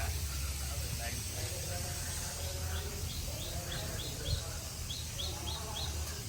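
Sparrows chirp in open natural surroundings at Sasan Gir, short high calls repeating in loose clusters over a steady background hiss, fairly faint and distant.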